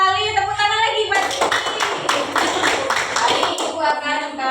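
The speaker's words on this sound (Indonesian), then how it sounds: "Tepuk tangan lagi buat" Students clap in a classroom, a lively burst of quick, rhythmic hand claps from a group that starts abruptly and runs for a few seconds, framed by a teacher talking before and after.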